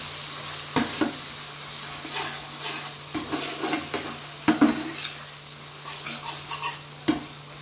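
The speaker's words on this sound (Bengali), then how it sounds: "এটাকে এবার ভালো করে কষে নেব" Chili and turmeric powder masala being sautéed in a pan for egg curry, a continuous close sizzle with repeated scraping strokes of a spatula at an irregular rhythm.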